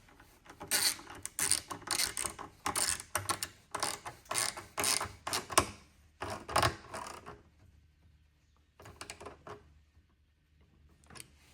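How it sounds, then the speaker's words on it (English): Ratcheting tool snugging windshield bolts on a BMW R1250GS Adventure motorcycle, quick repeated clicking bursts close up, pausing then resuming briefly near the end. "Go by hand first, and then we'll use the ratcheting tool to get it in."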